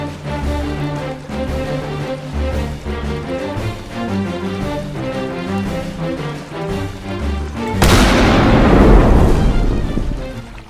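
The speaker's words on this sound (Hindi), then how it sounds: "अब मैं तोप चलाता हूँ।" Cartoon music plays, then a cannon booms with a heavy, rumbling blast that lingers for several seconds.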